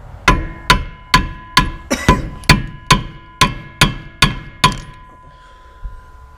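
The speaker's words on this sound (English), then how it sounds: "take a screwdriver and bash this piece in right there" Sledgehammer striking a screwdriver to bash a part into a Torsen differential on a turbo Miata build, about a dozen sharp metallic clanks in a steady rhythm, close and loud, then a single faint tap after a pause.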